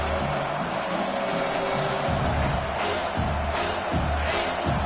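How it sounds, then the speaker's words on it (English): Stadium crowd at a football game, a dense, steady roar of many voices filling the background, loud and continuous with faint swells, as a play unfolds. "This crowd trying to make life miserable for this offense."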